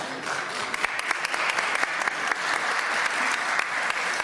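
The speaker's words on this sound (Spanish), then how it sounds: "les queremos brindar un aplauso por su presencia y su visita" A crowd at a council session claps steadily for several seconds, a dense, even patter of many hands with no voices over it.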